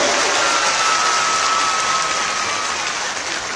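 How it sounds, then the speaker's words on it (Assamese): A crowd at a political rally in Lakhimpur claps loudly and continuously, a dense wash of applause that holds steady throughout, with only a faint tone threading underneath. "এটা মানৱ ডেকাৰ কাৰণে ডাঙৰ হাত চাপৰি এটা লাগে"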